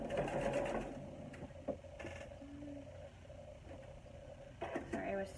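Sewing machine stitching a faux center placket on knit fabric, a steady mechanical whir with brief stops and restarts while a person talks over it.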